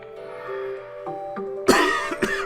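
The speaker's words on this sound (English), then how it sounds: "Oh, yeah, that would make me cough too." A video game character coughs after eating ultra spicy mapo tofu, with a couple of sharp, close coughs near the end over a sustained tonal game-music background.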